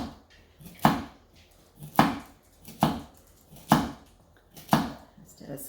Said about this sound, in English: So let's just cut them up like they are instead of